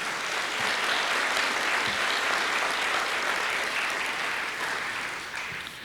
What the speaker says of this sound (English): And let me also applaud our instructional deans, Catherine Campbell, Hazel Hill, and Mariann